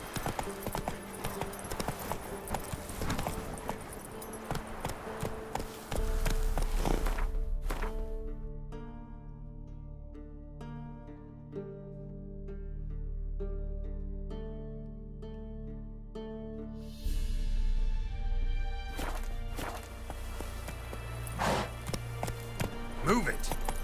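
Horse hooves clip-clop rhythmically in The Witcher 3: Wild Hunt, a quick steady beat under game music and ambience, with a voice urging the horse on at moments.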